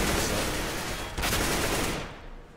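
Counter-Strike gunfire during an AWP match, a dense burst of close rapid shots and crackling game noise for a couple of seconds before fading out, with no talk.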